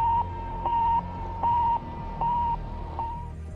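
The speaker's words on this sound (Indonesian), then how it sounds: "Sputnik memancarkan gelombang yang bunyinya seperti ini." A Sputnik satellite radio signal beeps in five regular, evenly spaced tones, steady in pitch and alternating with short gaps over a faint background hiss.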